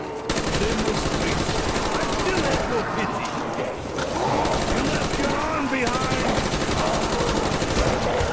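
Galil rifle gunfire in a Call of Duty zombies match on Kino Der Toten, rapid bursts of shots rattling through dense game sound effects, with someone talking over the action.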